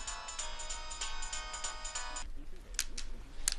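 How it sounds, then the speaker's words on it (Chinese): A phone ringtone plays a repeating electronic melody for about two seconds before cutting off, followed by faint background noise and a few brief clicks. "哎，别说话，我家里打电话。"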